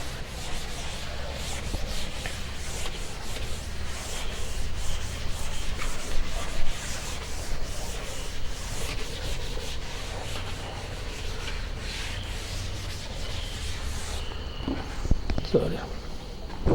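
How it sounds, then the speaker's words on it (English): Steady, scratchy rubbing of an eraser across a classroom board, continuous and close with slight rhythmic strokes throughout. "There is no space here, so I have to rub"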